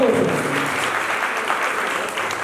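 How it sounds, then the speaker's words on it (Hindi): Dense, steady audience applause fills a hall during a Jain religious stage play, loud and continuous without a break, with faint voices mixed into the clatter. "जोरदार ताली बजानी चाहिए"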